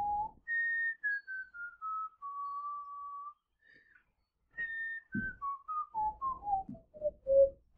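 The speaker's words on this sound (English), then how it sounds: "I'll show you the answers after I stop whistling" A person whistles a clear, sustained tune alone, long held notes at first, then a brief pause followed by a run of shorter descending notes, moderately loud and close.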